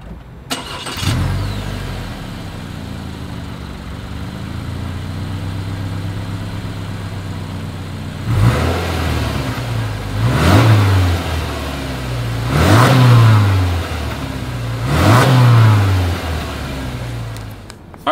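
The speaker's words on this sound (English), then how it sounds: "As always, here is that exhaust clip." A 2020 Subaru Forester's exhaust settles into a steady idle after start-up, then gives four sharp revs spaced a couple of seconds apart, each rising and falling back, recorded close with no talking.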